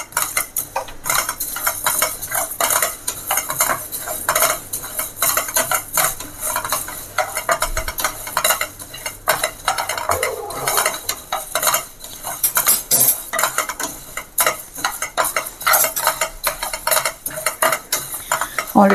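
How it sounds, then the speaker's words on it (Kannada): Coriander seeds roasting in a dry pan, stirred continuously with rapid scraping and rattling, a faint crackle and sizzle running under the busy, close metallic stirring. "ಈ ಕೊತ್ತಂಬರಿ ಸ್ವಲ್ಪ ಪಟ ಅಂತ ಶಬ್ದ ಬರುತ್ತೆ"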